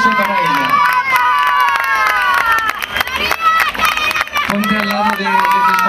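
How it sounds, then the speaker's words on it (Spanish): A crowd cheers and applauds loudly and steadily for a newly crowned Serranilla de Mágina beauty queen at a town hall ceremony in Huelma, with shouting voices and babble mixed through the sustained ovation. "Un aplauso para ella"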